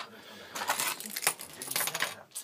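Two sets of caravan keys with alarm fobs for an Elddis Odyssey 550 (2008) are handled nearby, producing bright metallic jingles and clinks in bursts throughout.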